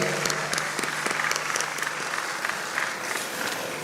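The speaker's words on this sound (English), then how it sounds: "A warm round of applause for the new entrants to the college" A hall audience at a medical college induction ceremony claps for incoming MBBS and BDS first-year students, a dense continuous burst of applause with sharp individual hand claps standing out, lasting a few seconds.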